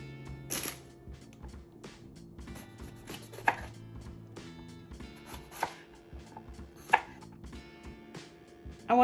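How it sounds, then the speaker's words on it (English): Knife cutting through bell peppers on a board, irregular crisp taps and slices up close, with occasional louder thuds. "If you're not cutting your bell peppers like this,"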